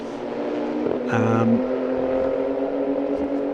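Renault Sport Trophy race cars at the Red Bull Ring: a steady engine drone with one car's higher whine rising sharply and passing, then easing back into the background roar, with a commentator's voice underneath.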